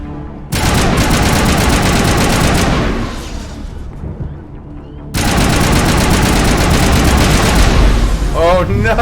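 Rockets slam home in a Mass Effect firefight, a loud, dense barrage of blasts and rapid fire. It rolls on for several seconds, drops away, then comes back just as heavy, with a voice reacting in the background.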